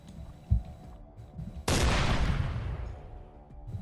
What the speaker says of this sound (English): he's launching missiles